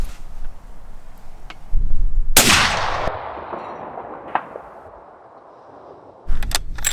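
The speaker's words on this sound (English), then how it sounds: "So we just shot out to 600, all these gongs all the way up, rifle's shooting nice" A loud rifle shot cracks outdoors at a long-range shooting range with steel gongs set out to 600 yards. Its report rolls away in a long echo, and a faint distant impact follows. Another sharp burst comes near the end.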